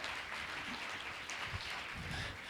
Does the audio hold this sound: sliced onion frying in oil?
no